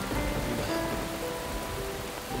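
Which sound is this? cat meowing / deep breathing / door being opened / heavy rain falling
heavy rain falling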